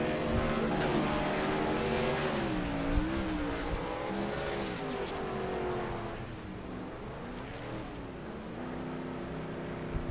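A race car at Sonoma Raceway's turn 1 does a burnout, its engine revving and wavering continuously over harsh tire-screech noise for about ten seconds, loud and sustained.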